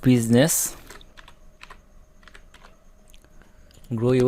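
Rapid, close clicking of a computer keyboard as text is typed in Canva, irregular keystrokes lasting about three seconds between bursts of talking at the start and end.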